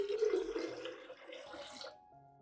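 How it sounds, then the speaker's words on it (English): Water pours steadily into a container for about two seconds, 500 milliliters diluting a solution for watering orchids, a close, splashing trickle that fades out abruptly. "add 500 milliliters of clean water to dilute the solution"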